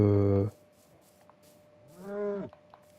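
A Minecraft cow gives two loud, close moos, the first cut short and the second drawn out and falling in pitch, with quiet game sounds between them.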